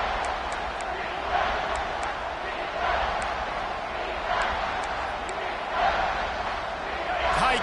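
Crowd roaring and cheering during a tight final period of a football game, a continuous swelling wash of many voices with periodic surges and sharp accents.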